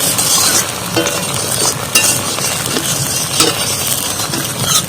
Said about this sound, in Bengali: একটু এই টুকটা ভেজে নেবো একটু হালকা করে।